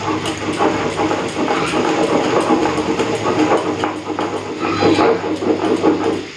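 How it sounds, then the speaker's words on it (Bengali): White mustard seeds are ground into a paste by a machine, producing a steady, loud mechanical whir and drone with gritty rattling texture that runs continuously throughout. "অল্প একটুখানি সাদা সর্ষে বেটে নিচ্ছি"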